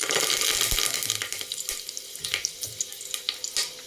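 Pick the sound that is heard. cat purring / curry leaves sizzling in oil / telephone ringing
curry leaves sizzling in oil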